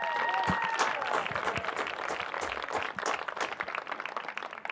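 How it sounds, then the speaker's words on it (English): A crowd at a high school baseball game applauds the 2025 Catamount Baseball Seniors, steady dense clapping filling the whole stretch with faint voices mixed in. "one final round of applause for your 2025 Catamount Baseball Seniors"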